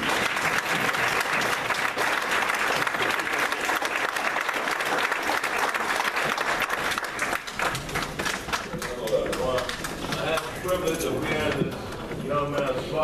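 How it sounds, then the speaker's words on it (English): An audience rises to give a standing ovation for a young man, with loud, dense applause that sustains and then thins as voices rise over the fading clapping. "I would appreciate it if everybody took a second and stood up and gave him a round of applause"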